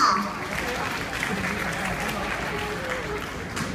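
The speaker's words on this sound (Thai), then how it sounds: "ขอเสียงปรบมืออีกครั้งนะคะให้กับคณะเกษตรค่ะ" Audience applause at a Kasetsart University singing contest for the Faculty of Agriculture, a dense steady patter of many hands filling the hall for several seconds, with a voice faintly audible underneath.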